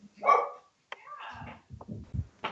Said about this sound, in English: That was a dog, not a cat.